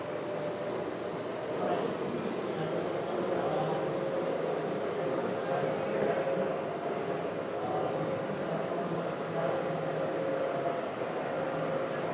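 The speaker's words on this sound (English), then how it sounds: "so let's turn on the trains." Model trains run in a continuous low rumble and clatter at a county park holiday display, a steady hum that stays even throughout with no speech.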